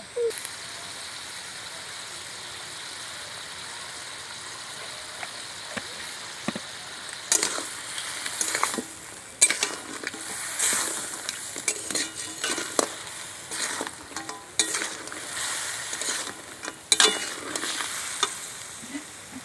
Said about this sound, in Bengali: সব মশলা দিয়ে আমি ভালো করে কষিয়ে নিয়েছি